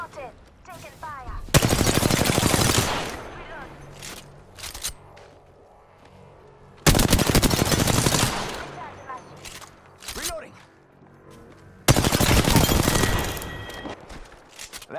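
Bursts of rapid gunfire from PUBG come in three loud, dense volleys of several seconds each, separated by quieter game sounds and brief in-game voice callouts.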